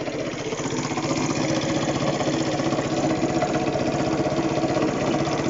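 A Honda Cub 90 engine idles at low revs with a fast, steady, clunky ticking and knocking, close and continuous with no talk.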